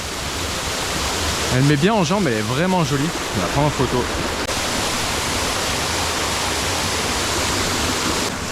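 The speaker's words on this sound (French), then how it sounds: "Bon, belle petite cascade." A small waterfall in a Vercors canyon gives a loud, steady rush of falling water that fills the whole scene, while a person speaks briefly over it.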